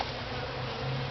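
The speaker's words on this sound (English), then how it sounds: "So a couple bees in there." Honey bees buzz steadily around an opened top bar hive during a honey harvest, a close, continuous droning hum with no voices.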